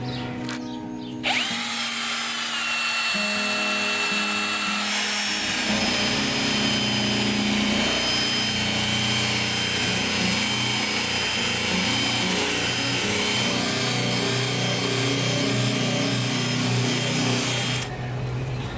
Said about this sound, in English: Loose leaf buffer on the drill, take 1.